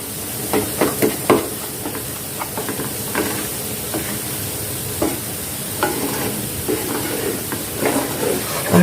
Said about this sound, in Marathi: आता इकडे दूध पाणी पण उकळलंय, तर ते मी आता ह्याच्यामध्ये घालते